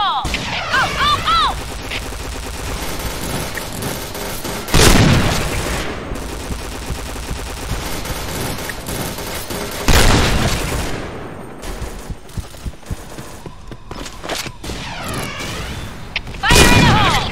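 Video-game combat in Point Blank, with grenade explosions as loud broad bursts near 5, 10 and 16.5 seconds and gunfire crackling between them. Game voice lines can be heard over the fighting.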